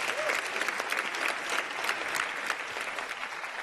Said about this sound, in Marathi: त्या महामानवासाठी आपण एकदा जोरदार टाळ्या वाजवूयात